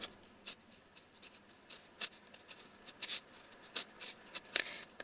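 Pen or chalk scratches on paper or a board during a Class 5 math lesson, coming as short, soft, irregular strokes with small pauses between them, close and quiet with no talking.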